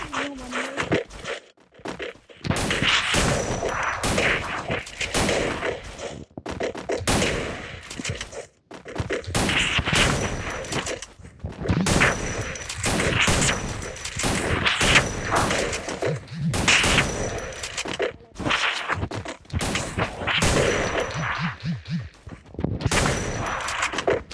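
Gunfire in a friendly online shooter match: repeated sharp shots and rapid bursts recur throughout, close and loud, with voices talking over them.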